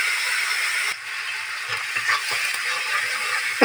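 Ginger and chili paste frying in a pan with cumin, a steady close sizzle with scattered crackles and light stirring knocks throughout.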